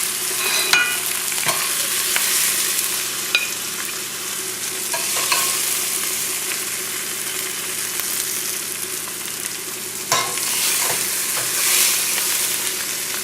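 An almond-encrusted fish fillet fries steadily in a pan, a loud continuous sizzle with occasional sharp clicks and scrapes as a spoon moves the fillet and pieces around.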